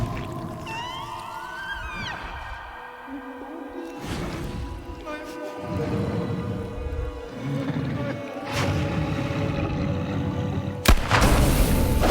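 A gunshot in the horror video game The Quarry, one sudden loud bang near the end, set against a low rumbling ambient score and gliding tones.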